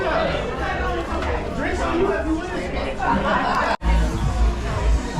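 A crowd of passengers waiting in a line aboard a cruise ship fills the air with dense, steady chatter and occasional chuckles; one brief dropout and a bump interrupt the hubbub partway through.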